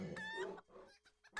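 Chickens cluck in a backyard chicken run, several hens giving loud, close, overlapping bursts of clucks and squawks separated by short pauses.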